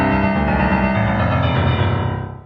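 A data sonification of U.S. coal production plays as a dense run of synthesized tonal notes, one per week, packed into a fast rising and falling sequence that stays loud and then thins and fades near the end.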